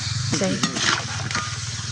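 Food sizzles in hot oil with a steady crackling hiss, briefly overlapped by a short voice-like sound near the start.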